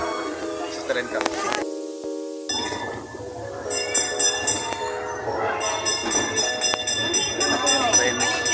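A small amusement train ride at Sky Ranch in Tagaytay rattles and clinks along, with bell-like chimes and squeaky metallic tones, while people chatter over it.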